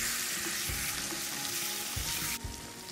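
Chicken pieces frying with garam masala and roasted cumin powder in a pan for Bangladeshi kala bhuna, giving a steady, close sizzle with occasional stirring scrapes throughout, and no talking.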